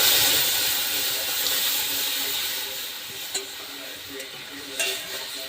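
Small green chillies drop into a pan of lightly fried onions for a Bengali vegetable dal, setting off a steady close sizzle that slowly fades, broken by a few faint clicks and taps.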